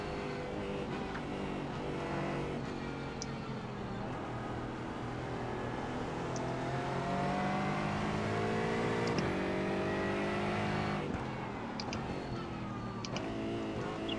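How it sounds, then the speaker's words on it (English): A race car in the iRacing video game revs up in second gear, its engine tone climbing and wavering in a fairly faint, continuous run with pitch sweeps and a few short clicks. "Probably didn't need to be in second gear there, the way it revved up."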